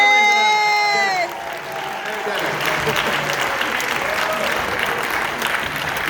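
A crowd applauds for the mayor at a public celebration. The clapping is loud and sustained, with cheering mixed in, and a voice shouts over it at the start.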